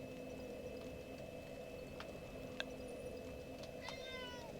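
A cat meows softly a few times, including a drawn-out wavering meow near the end, over a quiet background hum.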